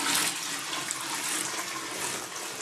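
Boiled pale ale wort is poured into a vessel to aerate it, producing a steady, close, rushing splash of liquid that continues unbroken throughout.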